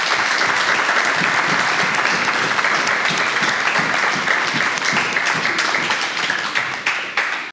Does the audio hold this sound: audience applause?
yes